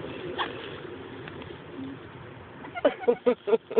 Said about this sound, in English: Pigeons are going crazy.